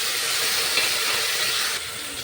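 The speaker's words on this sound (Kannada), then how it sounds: "ಚಂದ ಸ್ವಲ್ಪ ಫ್ರೈ ಆಗಿ ಇದ್ರಾಗ ಈಗ ಟಮಾಟೆ ಹಾಕ್ತೀನಿ ಇಷ್ಟು" Tomato added to a pan of frying chillies gives a close, steady hiss and sizzle that drops slightly in level near the end of the short stretch.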